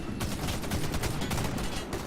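Rapid video-game gunfire fills a survival shooter match, dense overlapping shots bursting continuously for about two seconds, loud and close with no talking over it.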